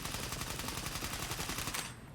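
AS Lavina rifle in Stalker 2 firing on full auto, a rapid, even stream of loud, close gunshots for about two seconds before cutting off abruptly, with no voices over it.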